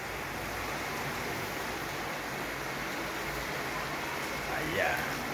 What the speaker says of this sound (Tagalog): dito po ngayon ay sa Marikina ay napakalakas po ang ulan